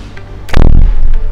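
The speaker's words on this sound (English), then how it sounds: "That's the sound of the door shut of the Škoda Slavia" A single solid thump of a Škoda Slavia car door shutting, close by and fairly loud, with a low resonant body and a brief tail.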